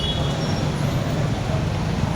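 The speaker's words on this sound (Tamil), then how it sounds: "பயங்கரமாக டிராஃபிக் ஜாம்" Heavy road traffic jammed under a flyover at Shoolagiri, a steady, loud, dense roar of engines and rumbling vehicles with no break.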